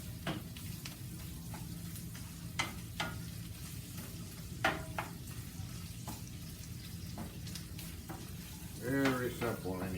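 Sausage fries and sizzles in a skillet for gravy, a steady close crackle broken by sharp scraping taps of a utensil breaking up the meat, with a voice briefly near the end.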